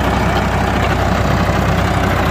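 A Ford 3600 tractor's diesel engine idles steadily and loudly close by, with a dense, constant low rumble and no talking.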